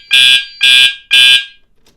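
A smoke alarm beeps three times in a steady rhythm, loud, shrill and close, then falls silent.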